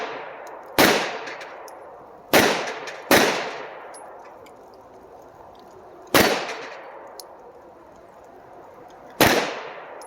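Five sharp gunshots fired at an outdoor shooting range, each a loud crack with a long ringing decay, spaced irregularly across the clip with no talking.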